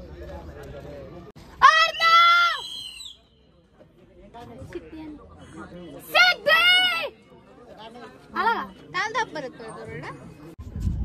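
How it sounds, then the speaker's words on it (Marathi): A person shouts loudly several times outdoors at Kate's Point, Mahabaleshwar, testing the echo over the valley, long ringing calls separated by pauses, with quieter chatter and crowd murmur between them. "हे बघा ओरडतोय अर्णव."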